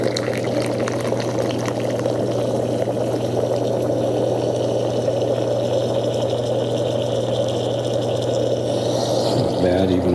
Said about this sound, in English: So let's see what the pour looks like.